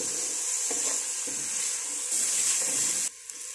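Sliced medium-sized onion softening in a pan for carrot soup, a steady hissing sizzle with a few soft stirring bumps, then a sudden drop to quieter frying near the end.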